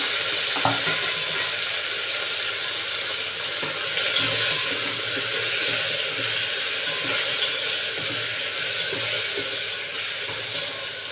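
Ground tomato hitting a pan of onion, mustard seeds, urad dal and curry leaves, a steady broad sizzle with small crackles and occasional stirring clicks, moderately loud and close throughout, nobody speaking.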